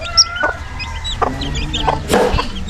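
Newly hatched chicks and adult chickens in a small backyard, with soft repeated clucks and high peeping calls from nearby birds and a louder squawk near the end.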